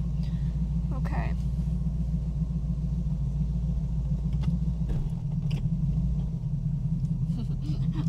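A Bricklin SV-1 sports car driving along: a steady, loud low engine rumble runs throughout with subtle shifts as gears change, and faint scattered rattles ride on top.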